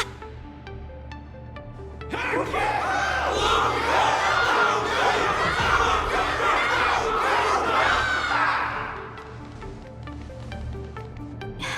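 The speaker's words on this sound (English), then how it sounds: "Can't you hear? Everyone's cheering for you, Luca!" A crowd in Honkai: Star Rail bursts into loud cheering and shouting, swelling for several seconds over light background music, then fading back down.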